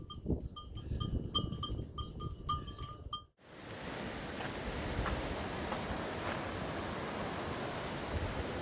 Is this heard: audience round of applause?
no